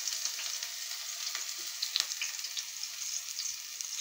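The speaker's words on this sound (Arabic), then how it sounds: "ملي الزيت كيسخن ناخذ دوك القطيعات ديالنا اللي صايبنا وكنحطوهم في هذاك الاناء" Small pieces of food fry in hot olive oil, giving a steady close hiss of sizzling with faint crackles and pops throughout, no voices.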